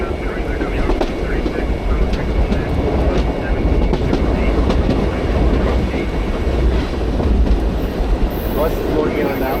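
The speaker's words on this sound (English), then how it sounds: "We got a work train here." A work train rolls past in a rail yard at Tamaqua, a steady loud rumble with faint clicking wheel noise, heard close from a moving excursion train, with voices talking over it.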